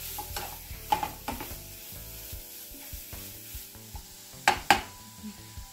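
Grated beetroot sautes in a pan, giving a soft steady sizzle broken by repeated scraping stir strokes, close and fairly quiet.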